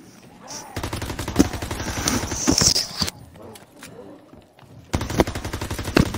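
Rapid automatic gunfire from a video game gun, fast rattling bursts in two long strings with a brief pause between them, loud and close.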